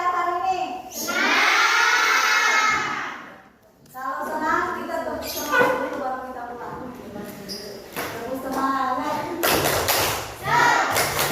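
Classroom children perform the 'tepuk semangat' chant, their loud group voices rising and falling in rhythmic phrases with claps and thumps between them, close and energetic.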